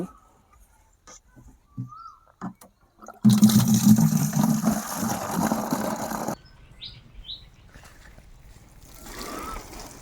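Fertilizer-mixed water is poured over palm seedlings and soil beside a fish pond, a loud gushing splash lasting about three seconds, with birds chirping outdoors before and after.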